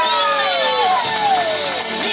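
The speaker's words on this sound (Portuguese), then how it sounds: "Uma salva de palmas, pessoal!" A crowd at a husband's surprise birthday celebration in Itaquaquecetuba cheers and shouts loudly, with excited whoops and high children's voices filling the whole short stretch.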